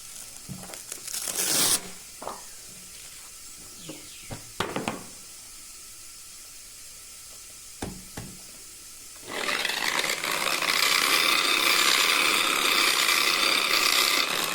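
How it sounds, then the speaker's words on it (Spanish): Bursts of handling and scraping give way to a loud, steady rasp of 220-grit sandpaper against a polished black Calatorao marble sphere, running continuously for the last few seconds. "ahora la lija del 220"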